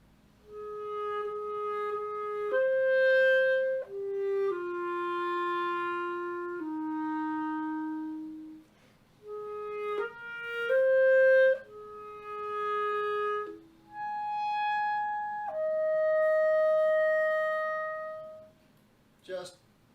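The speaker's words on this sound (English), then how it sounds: "when I play that same melody on the clarinet, it sounds like this." A clarinet plays a slow solo melody of sustained, clear notes that step up and down over about twenty seconds, ending with a brief sharp click.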